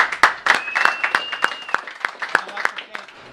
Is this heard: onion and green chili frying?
no